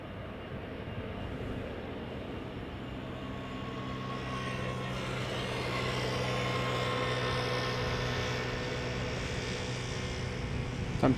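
Jet aircraft departing Schiphol Airport, with a broad engine roar that swells slowly and stays steady and fairly distant, and no one speaking.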